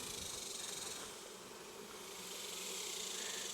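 A dense, continuous buzz of many Italian honeybees around a hive, steady and fairly close, with no voices.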